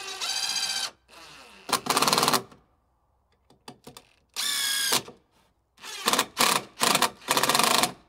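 A power drill drives 2.5 inch screws into a wooden patio table leg, with several loud whirring bursts of about a second each separated by short pauses and small clicks, close to the microphone.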